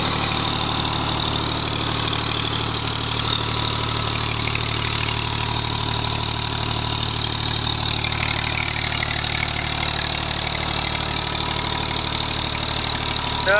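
A Romanian-made Farmer 533M tractor engine idling steadily at close range, a continuous rough mechanical rumble with a faint knocking texture and no talking.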